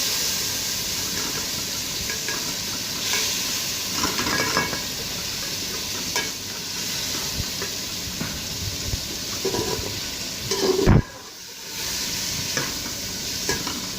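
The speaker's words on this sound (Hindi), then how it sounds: "ये हम मक्खन में हमने चिकन ऐड किया है और चिकन को हम हल्का सा फ्राई कर लेंगे" Chicken fries lightly in butter in a pan, a steady soft sizzle broken by stirring scrapes and clatters, with a sharp louder knock near the end followed by a brief dip before the sizzling resumes.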